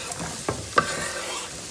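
Chopped onion dropped into a hot pan with blended ginger and green chili for dhaba-style aloo gobi, giving a brief sizzle with a couple of spoon clinks, close by.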